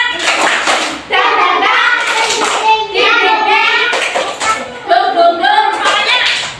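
Children perform a clapping chant called tepuk semangat during a classroom qurban-sacrifice role-play, with rhythmic hand claps under loud, close sing-song group voicing.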